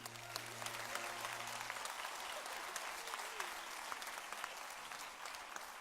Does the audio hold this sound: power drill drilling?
no